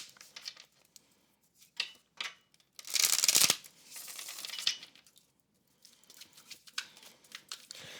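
Tarot cards shuffled and drawn by hand, with soft riffles, flicks and slaps, a loud burst of shuffling partway through, and quiet gaps between the handling sounds.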